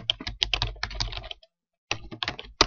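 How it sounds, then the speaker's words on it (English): Typing on a computer keyboard while entering spreadsheet text, a close, quick run of clicking keystrokes, a brief pause, then another burst of keys. "I'll just type in summary information"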